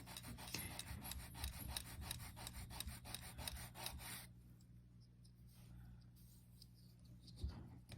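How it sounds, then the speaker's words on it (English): A polymer clay ring rubbed back and forth on sandpaper makes a close, steady rhythmic rasping for about four seconds, then stops, leaving near silence. "Make sure you're not sanding too much away."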